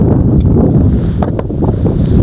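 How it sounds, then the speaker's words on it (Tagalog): Strong wind roars into the microphone at an abandoned nipa hut, loud and constant low buffeting with a few brief higher rustles. "ang lakas ng hangin dito"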